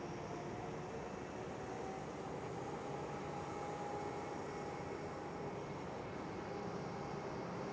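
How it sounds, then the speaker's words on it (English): A Boeing 787 Dreamliner taxis at Schiphol airport, its engines giving a steady, moderately distant broadband roar with a faint tonal whine running through it and no voices. "there is another Dreamliner coming towards the gate"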